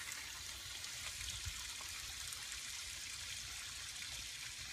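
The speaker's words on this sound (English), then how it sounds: "We'll let that drain out." Water draining out of a pool pump, a steady trickling and gurgling flow with a low rumble underneath, close and constant throughout.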